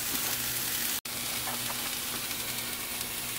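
Orange chipotle chicken with onions and bell pepper sizzles steadily in a pan as it is stirred. The frying hiss is soft and continuous, broken by one instant of silence, and no one speaks.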